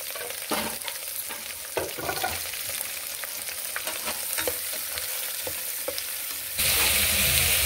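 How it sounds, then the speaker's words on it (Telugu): Slit green chillies and onions fry in a pan, a dense continuous sizzle with intermittent stirring scrapes, growing louder and hissier near the end; nobody speaks. "ఇప్పుడు పచ్చిమిర్చి, నిలువుగా కోసుకున్న పచ్చిమిర్చి, ఉల్లిపాయలు 2 కూడా బాగా వేయించుకోవాలి."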